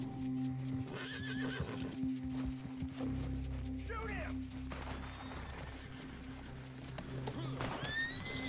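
Horse neighs and whinnies repeatedly inside a video game, with clip-clop hoofbeats and a steady game hum underneath while someone speaks over it.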